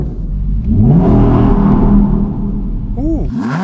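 An Audi R8 on winter tyres revs hard, a loud, sustained engine roar with rising and falling pitch sweeps, easing off and then blipped twice at the end.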